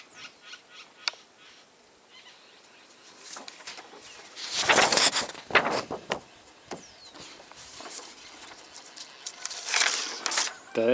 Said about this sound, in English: birds be everywhere.